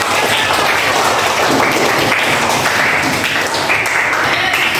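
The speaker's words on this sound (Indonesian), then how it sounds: "Tepuk tangan." Students in a classroom clap together in a close, busy patter that stays at an even, fairly loud level for several seconds, with no speech on top.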